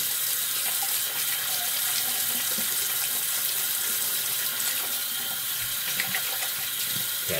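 Water streams steadily from a tap as greasy hands are washed under it, a close, continuous splashing rush with small irregular clicks and rubbing noises, no voices.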